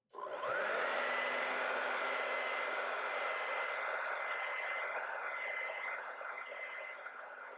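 A hair dryer blows on wet acrylic paint in a steady, close, loud whoosh with a constant motor hum that clicks on and runs unbroken.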